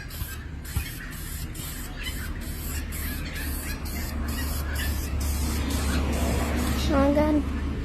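Semi-gloss wheel paint sprayed from an aerosol can onto a rusty chair base as a top coat, repeated short hissing bursts under a low background hum, with a voice speaking near the end.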